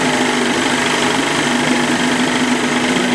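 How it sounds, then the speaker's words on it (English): A 30 hp Johnson two-cylinder outboard motor runs steadily on both cylinders, a loud, close, even buzzing hum with no speech. "Running on both cylinders."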